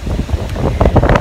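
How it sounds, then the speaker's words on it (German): Strong wind buffets a microphone outdoors on a walk with a dog, making loud, gusty rumbling bursts with no talking. "Boah, es ist voll windig."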